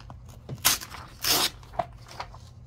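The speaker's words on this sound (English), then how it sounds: "All right, so that I'm gonna cut out" Scissors cut through paper for a junk journal page, a few close, crisp snips and crunchy rustles in quick irregular bursts with brief pauses between.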